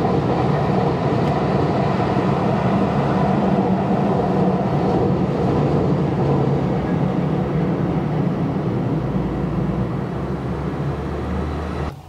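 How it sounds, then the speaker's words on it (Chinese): A train passes on a railway just outside a Nagoya hotel, a loud continuous rumble and clatter that holds steady for the whole stretch and eases slightly near the end, with no voices. "每天听这个地铁声起床，我是觉得还蛮惬意的。"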